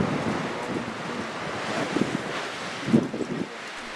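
Gusty wind sweeps across open African plains, buffeting close to the microphone in uneven rushes that swell and ease, with the strongest gusts near the middle and end.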